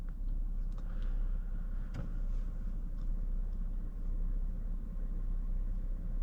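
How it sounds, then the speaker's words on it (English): A steady low road rumble fills the cabin of a 2025 Chrysler Pacifica Select minivan with a 3.6-liter V6 as it drives along, with a few faint clicks and taps over the hum. "let's go for a drive in this 2025 Chrysler Pacifica Select"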